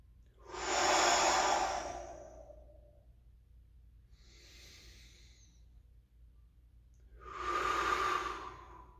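Slow tai chi breaths, with two long, deep exhales several seconds apart and a softer breath between them, close and steady in a quiet room with no talking.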